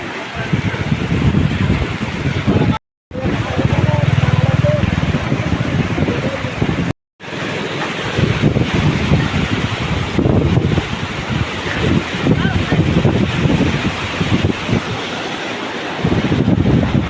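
A river in Satapar, swollen and overflowing after heavy rain, gives a loud, continuous roar of rushing floodwater mixed with wind buffeting the microphone, broken by two short gaps.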